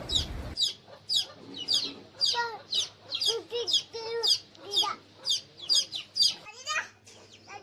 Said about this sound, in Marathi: स्वरला ती कोंबडीची पिल्लं जणू खेळणीच वाटत होती